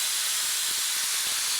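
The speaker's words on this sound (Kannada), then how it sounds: "ಸ್ವಲ್ಪ ಆಯಿಲ್ ಬಿಸಿ ಆದಮೇಲೆ ಸ್ವಲ್ಪ ಜೀರಿಗೆ ಹಾಕ್ಕೊಳ್ಳಿ." Cumin and fennel seeds sizzle in hot oil for aloo samosa filling, giving a steady, close, bright hiss that runs unbroken throughout, with no voices over it.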